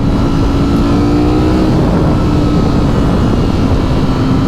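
A Ducati Streetfighter V4S motorcycle engine roars loud and close, its pitch climbing and holding in a sustained rev above constant road rumble, with no voices present.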